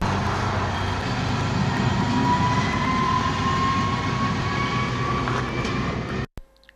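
A train bound for Jičín rumbles past at close range, a steady loud roar with faint squeals on top, then cuts off abruptly near the end.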